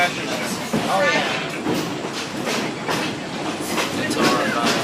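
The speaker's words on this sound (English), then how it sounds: "Great day for a train ride." Whitewater Valley Railroad passenger train rolling along the tracks, a steady rumble with rhythmic clickety-clack from the wheels, heard from on board while people talk.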